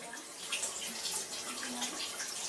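Water trickles and splashes from an ice machine at an American Legion hall in Hollywood, a steady close running-water sound with faint irregular drips and no talking.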